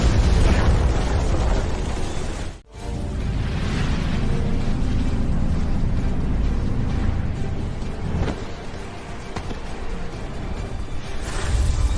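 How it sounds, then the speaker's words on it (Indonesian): A video-game explosion in a ruined, post-apocalyptic city full of mutant monsters: a loud, dense roaring blast with a brief dropout, then continuing rumbling debris and fire. "Pria sejati tak pernah menoleh pada ledakan. Tapi kembang api ini memang bagus."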